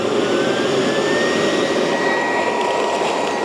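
An EGO leaf vacuum runs at maximum speed over gravel, a loud, steady, close whine with a constant high tone and rushing air throughout, no talking.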